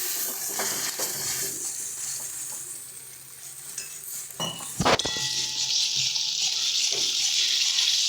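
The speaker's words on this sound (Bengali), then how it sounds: "হালকা জল দিয়ে একটু মশলাটাকে কষাবো যাতে মশলাটা কড়াই গায়ে লেগে না যায়" Spice paste stir-fried with a splash of water in a wok sizzles hard and close, while a spatula scrapes and clangs against the pan. One sharp metallic knock lands near the middle. No voices are heard.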